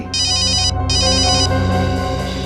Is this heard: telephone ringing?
yes